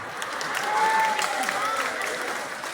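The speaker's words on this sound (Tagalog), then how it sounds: "O palakpak yung mga marites." A live audience claps steadily for nearly three seconds at a community talk in the Philippines, a broad wash of applause from a crowd in a hall.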